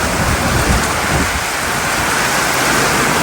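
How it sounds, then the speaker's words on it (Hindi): Heavy stormy rain pours steadily in a dense, roaring hiss during days of nonstop downpour, loud and close with no voices. "ये है बारिश जो रुकने का आज नाम नहीं है"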